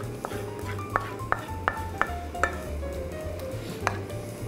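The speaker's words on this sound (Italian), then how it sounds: "ora ne prendo una più grande e trasbordo il sughetto" Sardine pasta sauce is transferred from one pan into a larger one, giving a series of sharp metallic clinks and scrapes of a utensil against cookware, about ten distinct hits spread evenly over a low background hum, with no talking.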